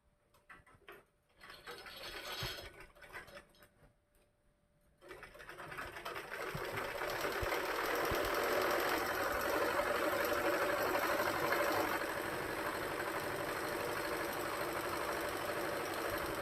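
A sewing machine stitches a blouse, starting after a few quiet seconds of faint handling noises and then running as a continuous close whirring drone through to the end.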